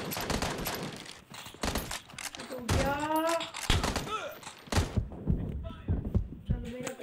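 Gunfire in a mobile shooting game, dense bursts of rapid shots heard under excited, overlapping talk from players.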